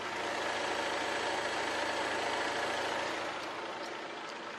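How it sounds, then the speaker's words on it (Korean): Idling engine of a high-end flagship car with the hood open, a steady smooth hum with a faint low drone, even and unbroken throughout, close and without talk. "엔진 소음을 먼저 들려드리면은"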